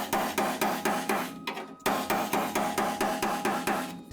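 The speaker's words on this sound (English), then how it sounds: "you take a second hammer and you cut that line in" Sharp metallic hammer-on-hammer strikes on an autobody sheet-metal panel, a second hammer driving against a flat-backed first hammer to cut a line, about four blows per second in a steady run with one brief pause, loud and close.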